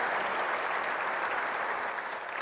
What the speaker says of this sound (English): Can we give a round of applause for all three?